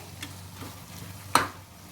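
Chopped green chilies are stirred into bitter gourd masala in a pan, soft scraping and a low sizzle broken by one sharp spoon clink against the pan, close and fairly quiet.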